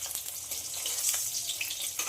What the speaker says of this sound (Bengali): অল্প করেই ভাজবো, খুব একটা পুড়িয়ে ভাজবো না।